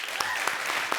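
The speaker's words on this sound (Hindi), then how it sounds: "उसके लिए जोरदार तालियां हो जाएं।" Steady applause from a crowd fills the whole second, with a few sharper claps standing out above the continuous patter.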